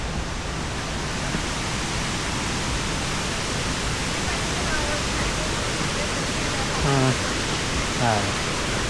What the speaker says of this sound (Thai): นี่ก็จะเป็นน้ำตกชั้นที่สี่แล้ว